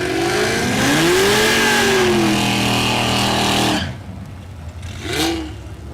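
Drag cars, a Corvette and a GTO, rev loudly at the starting line of a dragstrip, engines surging and rising in pitch for several seconds, then dropping away before one more brief rev.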